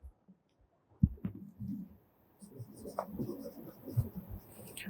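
A marker or chalk scratches across a board during a maths lesson on derivatives, faint short strokes and taps coming in irregular bursts, close and quiet with no speech.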